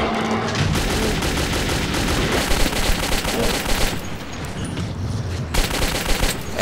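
Rapid gunfire aimed at fast, creepy enemies in the Metro 2033 video game, loud and nearly continuous bursts over several seconds, with a brief lull midway before the shooting resumes.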